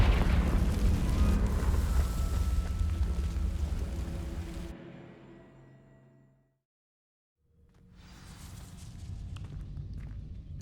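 A Confringo spell blast in Hogwarts Legacy on PS5 gives a loud, dense burst of noise. It rumbles and fades over several seconds into near silence. Fresh game ambience then returns, and no one speaks.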